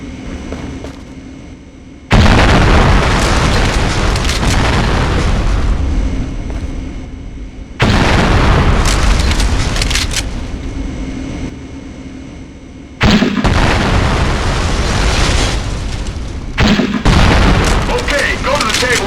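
M203 grenade launcher rounds explode on a Conflict: Desert Storm 2 training range: four loud, abrupt booms, each followed by a long rumbling decay, with a voice talking in places.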